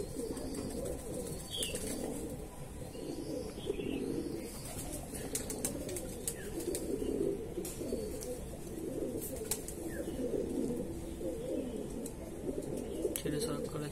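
Andhra Madrasi pigeons coo in low, repeated murmurs among sharp wing flaps and clicks, fairly close, while someone talks intermittently over them.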